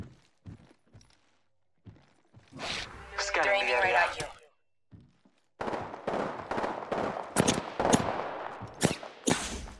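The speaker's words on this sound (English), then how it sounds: "They spotted me. I'm taking shots." Apex Legends gunfire comes in short, sharp bursts, with a whooshing rattle early on followed by a dense string of rapid shots near the end. Quiet gaps fall between the volleys.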